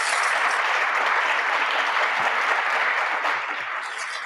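Audience applause at a political candidate forum for a state Senate race, dense and loud clapping from a crowd that holds steady for several seconds before easing slightly at the end.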